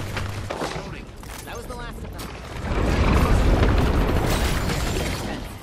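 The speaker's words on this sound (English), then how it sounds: "I'm shooting you in the back, dude." Gunfire in the Apex Legends battle royale game, a dense stretch of booming shots and bursts that swells louder midway, mixed with game effects and talk underneath.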